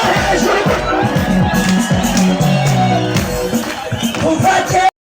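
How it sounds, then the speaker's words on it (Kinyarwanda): A large stadium crowd at a gospel concert applauds and cheers loudly and continuously over music and voices, with the sound cutting off abruptly near the end. "ikomera amashyi yo hejuru"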